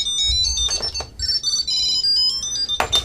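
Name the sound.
Tile Mate Bluetooth tracker ringing on truck keys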